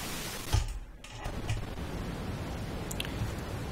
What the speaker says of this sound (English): we're going to see red noise.